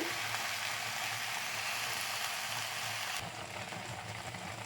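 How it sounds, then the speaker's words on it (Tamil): Okra sautéing in a pan for poriyal, a constant, even sizzle of hot oil close by that eases slightly partway through, with no talking. "இந்த பக்கம் வெண்டைக்காய் பொரியலுக்கு வெண்டைக்காய் வதங்கிட்டு இருக்குது"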